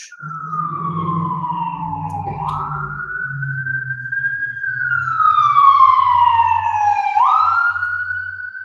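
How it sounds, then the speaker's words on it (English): An ambulance siren wails, sweeping up and down steadily, loud and close, with a low engine rumble underneath as the ambulance goes by. "Wow, there's an ambulance."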